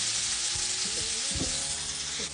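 A close, continuous sizzle of dry white wine bubbling and reducing in a hot frying pan, with a few soft clinks and stirring sounds.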